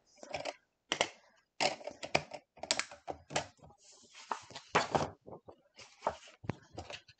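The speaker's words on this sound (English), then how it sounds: "I'm going to use the wave blade on the edge of my black shimmer" A wave blade trimmer cuts a decorative edge into black shimmer paper for scrapbooking, making a close series of crisp, irregular slicing and crunching bursts with short pauses between them.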